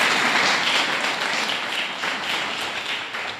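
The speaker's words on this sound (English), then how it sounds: "we're going to give you another round of applause just because" An audience at an installation ceremony gives a sustained round of applause for an honoree, a dense, steady wash of many hands clapping that slowly tapers off.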